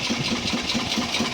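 A small Lister diesel engine on a traditional canal narrowboat runs steadily nearby, with an even, pulsing chug and a quick regular knock, and no voices over it.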